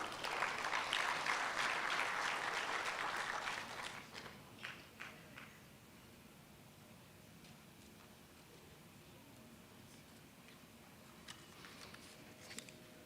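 Conference audience applauding, a dense burst of clapping for about four seconds that thins into scattered claps and light shuffling in a large hall.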